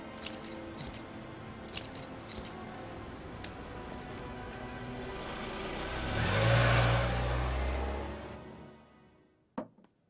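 A car drives off as its engine swells to a brief revving roar midway and then fades, with faint ticks and rustles before it and a sharp knock near the end.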